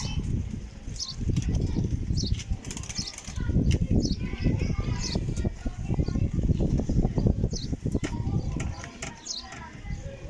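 Bursts of wing flapping from pigeons taking off, rough fluttering noise continuing through most of the stretch with a few faint chirps above.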